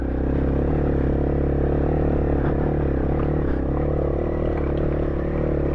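A Honda CRF small adventure motorcycle climbs a muddy, snowy mountain track, its engine droning steadily and loudly throughout with faint clatter, and no talking.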